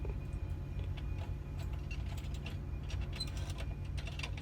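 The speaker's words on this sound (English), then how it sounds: "So I want to get all the slack out of the strap and then just put 1 click with my body weight." A ratchet strap is tightened over a load of 12-foot drywall, giving a quiet run of small clicks and mechanical ticks against a steady low background hum, with no voices.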